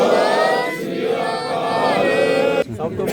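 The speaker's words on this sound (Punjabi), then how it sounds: "ਉਹਦੇ ਲਈ ਇੱਕ ਵਾਰੀ ਜਕਾਰਾ ਛੱਡਦੇ ਹਾਂ ਜੀ ਆਪਾਂ ਬੋਲੇ ਸੋ ਨਿਹਾਲ" A crowd roars a Sikh jaikara in unison at a gurdwara gathering in Dera Baba Nanak, many voices merging into one sustained, loud shout with no other talk.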